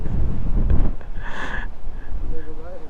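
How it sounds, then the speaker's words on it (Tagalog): Strong, cold wind buffets the microphone at Tala View Deck in Orani, Bataan, making a heavy low rumble that swells and dips, and a voice speaks briefly through the gusts. "Lakas ng hangin. Lamig."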